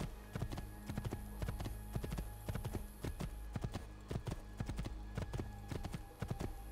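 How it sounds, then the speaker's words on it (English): A horse gallops in Assassin's Creed II, with a steady, fast clip-clop of hooves close by and faint in level, running continuously with no talk. "Move out of the way, horsey coming through."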